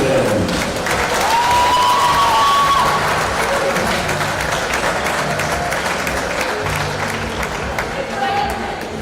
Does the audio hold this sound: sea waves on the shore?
no